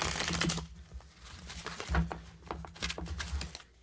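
Tarot cards shuffled by hand up close, giving quiet, crisp riffling clicks and soft papery flutters in short irregular bursts.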